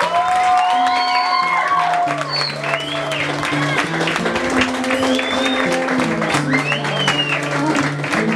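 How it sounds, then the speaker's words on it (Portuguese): A party crowd applauds and cheers as a debutante enters at her fifteenth birthday celebration, with sustained clapping and whoops running under loud music that plays throughout. "Vamos aplaudir a entrada da nossa debutante."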